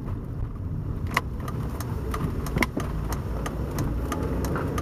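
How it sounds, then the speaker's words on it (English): A car drives with a steady low engine and road rumble filling the cabin, broken by a few light clicks and rattles. "I'm driving to work."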